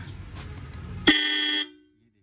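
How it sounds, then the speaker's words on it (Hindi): A very loud horn from a modified 2021 Hero Splendor Plus BS6 motorcycle fitted with large twin horns, sounding one sharp blast of about half a second that cuts in over low background noise and then stops abruptly. "ये देखिए बिल्कुल मेरे कान बैठ गए, बहुत ही तेज हॉर्न है।"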